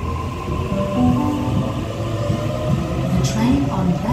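Low rumbling hum of a train pulling away from platform 2 at Bankstown station, steady and fairly loud, with a brief higher squeal near the end.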